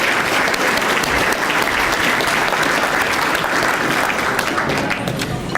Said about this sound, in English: So you've already given her a round of applause, but please give her another